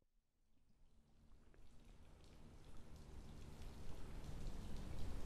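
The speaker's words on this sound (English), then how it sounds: "I'm back at the little mini waterfall" A small mini waterfall splashes in a soft, continuous rush of falling water, starting faint and growing gradually louder and closer over several seconds.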